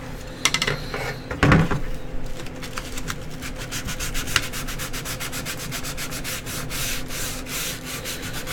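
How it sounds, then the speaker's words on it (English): Sanding during a live build of a glass construct: close, rhythmic abrasive strokes that speed into quick repeated rasps, with a sharp knock near the start and no voices. "Make sure you keep the sanding on the camera. I want to see every stroke."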